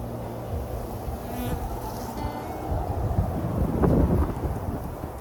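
A dense, steady buzz of many honey bees around a crowded hive close to swarming, heard near and continuous, with light wind noise rising toward the end.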